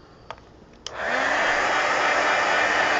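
A hair dryer blows on an art journal page made from an old typewriter book. A couple of small clicks come first, then the dryer switches on and holds a loud, steady whoosh nearby.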